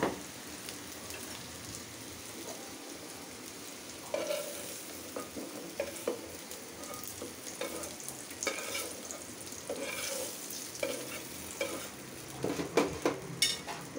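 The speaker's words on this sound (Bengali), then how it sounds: "করলাটা ভাজা হয়ে গেছে" Bitter gourd fries in a pan with a soft, hissing sizzle, and the sound is fairly faint overall. Scattered clicks and scrapes of stirring come in, growing busier toward the end. No voices are heard.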